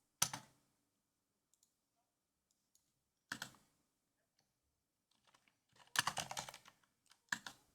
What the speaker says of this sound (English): Let's type before your eyes.